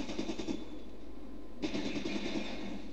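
Gunfire from the video game Fallout Tactics rattles in a fast repeating burst, pauses briefly, then resumes, fairly quiet and steady, with no voice over it.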